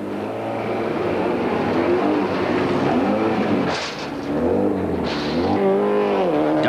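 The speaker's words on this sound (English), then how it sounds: "Duncan powers the turbocharged Toyota Celica into stage one" A turbocharged Toyota Celica rally car accelerating hard into a street stage in Ermelo, engine loud and close, revving up through several gear changes with brief dips between shifts.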